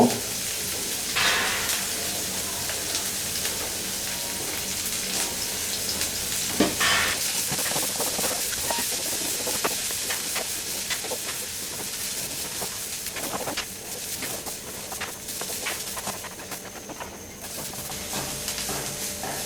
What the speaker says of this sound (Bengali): একটা প্যানে একটু তেল গরম দিয়ে তার মধ্যে কিছু পেঁয়াজের কুচি আর কিছু মরিচের কুচি আমি একটু ভাজবো